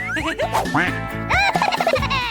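A toy duck gives a rapid string of loud, squeaky quacks in close succession, bouncing and cartoonish, with no voices alongside.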